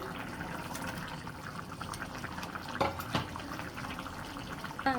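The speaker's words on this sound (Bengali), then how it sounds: "এখানে জল দিয়ে দিবেন" Water pours into a cooking pot of fish curry, a close, continuous liquid rush with a few small clanks of the pot near the end.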